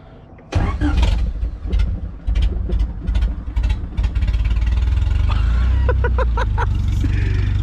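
A junkyard-assembled Honda LSVTEC engine cranks, catches and settles into a loud, low, steady idle close by, with a few brief revving surges and a voice talking over it.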